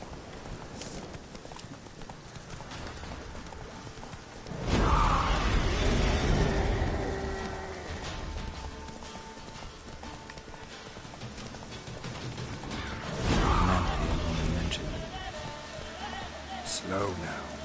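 Roach, the horse in The Witcher 3, gallops with steady rhythmic hoofbeats, and two louder surges of hooves and movement come with faint rain in the background while someone speaks briefly.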